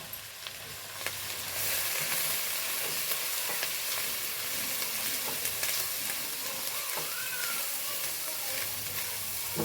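Ginger, garlic and green chillies sauté in a pan with a steady, close sizzle and hiss, broken by occasional scraping stirs and small pops throughout.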